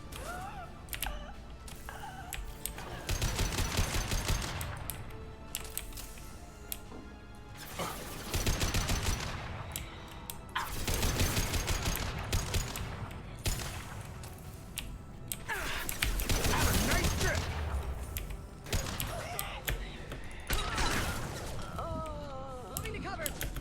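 Rifle gunfire in the sci-fi game Mass Effect 2, repeated bursts of rapid shots separated by short pauses across a long stretch of combat, with other effects and scattered game sounds mixed in, moderately loud.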